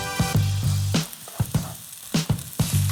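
Egg sizzling and frying in a hot pan with rice, stirred straight away, giving a steady crackle broken by several sharp scraping stir strokes, close and fairly loud.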